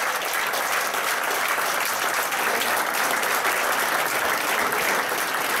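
Sustained, dense applause from an audience standing at an investiture ceremony for Jacques Tétreault in Johnson, loud and even throughout with no talk over it.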